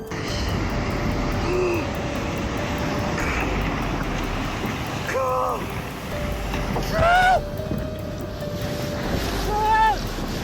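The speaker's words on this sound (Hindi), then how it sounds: "जब यह समुद्र में बहुत भारी लहरों से गुजर रहा था, तब जोरदार लहरों का झटका लगा।" Heavy sea waves surge around a cruise ship, a loud continuous roar of water and wind with periodic swells, mixed with tonal mechanical whines.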